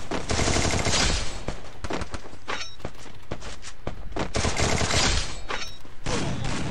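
Dense gunfire in a shooter video game, with rapid automatic bursts and sharp single shots piling up loud and close throughout, along with clanks and impacts and no clear talking over it.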